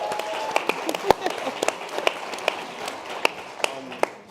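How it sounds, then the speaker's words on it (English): An audience claps for a group of young Aspen Challenge participants from Philadelphia, scattered sharp claps over a murmuring room as a speaker talks on. "Give them a round of applause."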